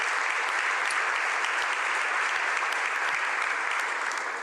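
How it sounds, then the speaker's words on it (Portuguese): A church congregation applauds during a sermon, a dense, even roar of many hands clapping that holds steady and loud without a break or any voice on top. "Será que a gente pode aplaudir o nome de Jesus?"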